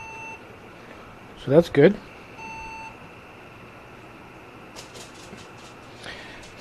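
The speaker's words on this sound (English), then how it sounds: "I hit the power button here. And I get the, I'm getting a beep." A short electronic beep from an MSI G41M4 motherboard at power on, with faint fan hum and a person speaking briefly nearby.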